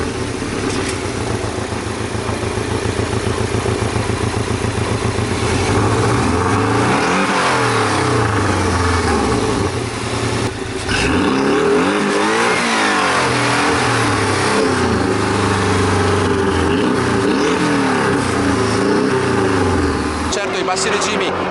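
The four-cylinder engine of a Porsche Cayman 718 revs up and down in repeated sweeps, a dense, steady mechanical roar throughout, with a voice talking over it.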